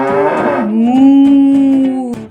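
A cow gives one long, loud, close moo that starts with a strained, breathy note and settles into a low, steady tone before cutting off.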